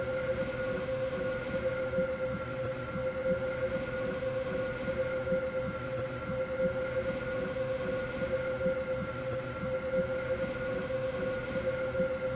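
Steady simulated rolling and motor drone of a five-coach Stepford Express train in a Roblox railway game, with constant tonal hum and a continuous, even level throughout with no talking.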